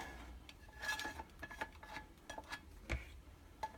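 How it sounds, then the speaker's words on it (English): Screen printing emulsion is scraped out of a scoop coater with a tool, giving faint, intermittent clinks and scrapes of metal and plastic, a few sharper knocks spaced irregularly, with no talk. "I'm going to scrape all this emulsion out, put it back in the bucket"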